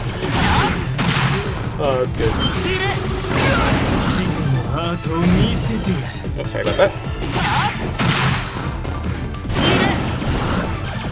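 Rapid video-game explosions and crashes from a boss fight against a crawfish enemy in Luminous Avenger iX burst repeatedly over game music, with people talking and laughing over the action.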